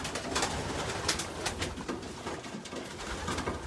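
Racing pigeons coo inside a race loft fitted with box perches, a dense, continuous layer of soft cooing and wing rustles from many birds, close by.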